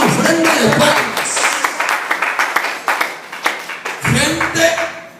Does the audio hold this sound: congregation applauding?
yes